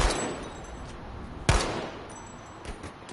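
In Payday 2, a semi-automatic self-loading rifle fires one sharp, close shot with a ringing tail. Lighter gunfire crackles before it and trails off afterward, and no voices are heard.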